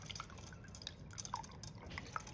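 Annatto oil pours through a strainer that catches its seeds, giving a quiet, continuous trickle with small drips and splashes close by, no voices.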